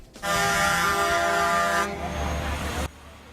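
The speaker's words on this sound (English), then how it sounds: "Drivers who are against having to pay a toll honked their horns" Loud truck horns blare close by at a truckers' protest outside a statehouse in a long sustained blast, then a second lower horn carries on briefly before cutting off.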